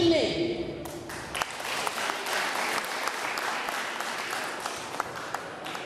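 An audience at an Armenian powerlifting championship breaks into sustained, dense applause that stays steady and loud for several seconds after a brief lead-in.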